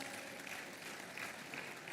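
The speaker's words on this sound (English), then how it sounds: "A round of applause for yourselves." An audience at a hospitality summit in Lagos gives a short, fairly faint round of applause, an even patter of many hands heard from some distance.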